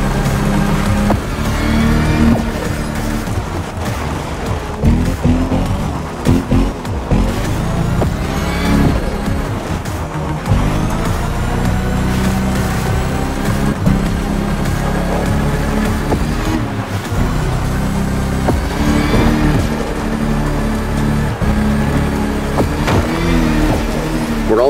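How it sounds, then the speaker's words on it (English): A three-motor electric car in The Crew Motorfest racing game drives under load up a slope, a loud, steady whine that rises and falls with speed throughout. "I'd love to see what those three electric engines can do."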